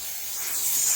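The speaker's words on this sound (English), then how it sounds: "Now I always spray the basting spray on the batting." Basting spray hisses from a can onto quilt batting, one continuous close, fairly loud spray with no talk.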